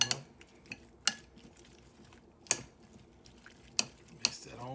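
A spoon clinks and scrapes against a bowl while mixing homemade salsa of tomato chunks with cayenne pepper, a handful of sharp, close taps spaced irregularly over a quiet background.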